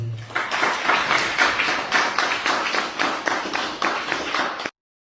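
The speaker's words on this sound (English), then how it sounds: "Everybody give yourself a round of applause." Members at a union local membership meeting give themselves a round of applause, close and energetic clapping with a bouncy, slightly rhythmic pulse that stops abruptly.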